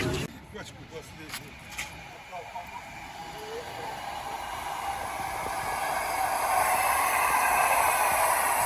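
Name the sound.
train approaching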